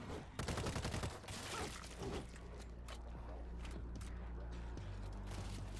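A suppressed assault rifle fires at zombies in World War Z, a rapid burst of shots up front followed by sporadic shots and mechanical clanks over a low droning background, with people talking.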